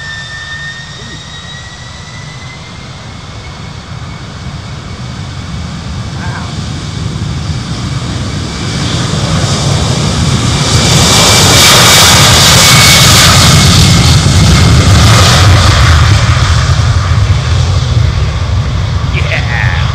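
Jet engines on a Boeing 747 freighter roar on departure, starting as a distant, rising whine and building to a loud, broad, sustained roar that holds steady and then eases slightly.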